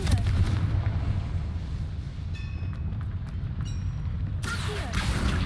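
A Confringo blasting spell exploding in the Hogwarts Legacy video game, a heavy sustained rumbling blast with crackling debris, followed by a brighter magical burst near the end.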